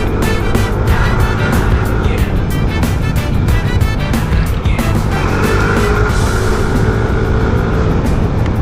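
A Honda Click i125 scooter riding and overtaking through traffic, its engine drone steady and loud with wind rush throughout, revving slightly as it passes other vehicles.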